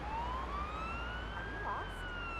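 A wailing ambulance siren in a video game rises and falls in pitch, continuous and fairly loud, with a steady engine-like rumble underneath.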